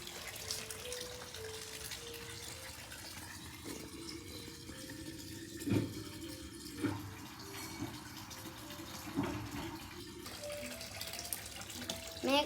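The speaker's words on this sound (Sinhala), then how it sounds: "වතුර මේකට දාමු" Water from a container poured out for a fish pond, a continuous running gush lasting many seconds with a few louder splashes and bumps along the way.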